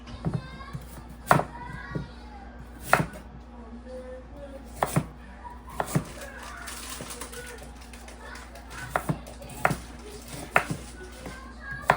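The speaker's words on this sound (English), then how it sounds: "Having a really sharp knife makes this so much easier too." A sharp knife strikes a cutting board in sharp, irregular knocks while someone prepares supper from the garden, with children's voices and birdsong in the background and an adult talking.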